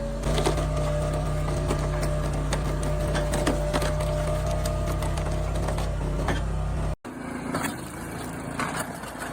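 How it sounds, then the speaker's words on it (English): A hydraulic log splitter works red oak logs, a loud continuous mechanical drone with rattling and creaking wood, cutting off abruptly before the machine noise resumes with sharper knocks. "He lowers the lever, and immediately the machine automatically pushes the log toward the sharp splitting blade."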